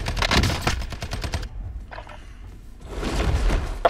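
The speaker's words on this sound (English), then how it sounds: "I'm getting shot" Gunfire in the Warzone video game: loud, rapid automatic bursts up front, a quieter gap, then another heavy volley at close range.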